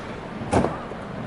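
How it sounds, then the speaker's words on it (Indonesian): A car door shuts with a single short, muffled thud over a steady background hum inside a vehicle. "Pintu ditutup."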